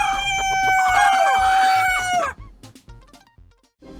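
A red rooster crows loudly and close, one long harmonic call held for about two seconds, then scattered clucks and small farmyard noises.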